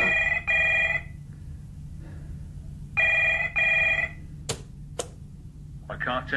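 A telephone rings inside a flat in two separate bursts, each a double trill of a bright, harmonic bell, with a low steady hum underneath and brief clicks and rustling afterward.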